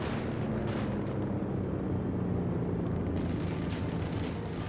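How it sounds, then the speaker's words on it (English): Rifle fire from a conscript squad in the real-time strategy game Company of Heroes 2, a dense continuous barrage of gunshots and heavy battle noise with rumbling low booms throughout, loud and unbroken. "Conscripts firing away."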